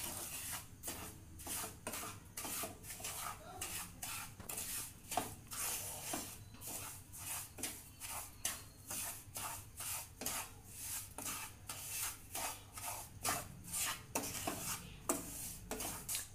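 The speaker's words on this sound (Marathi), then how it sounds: "तुपामध्ये रवा चांगला भाजून घेणार आहोत" Semolina (rava) roasting in ghee for prasad sheera, stirred with a spoon against the pan in steady repeated scrapes and clinks, close and fairly quiet.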